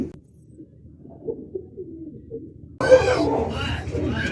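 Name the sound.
Two people cross pigeons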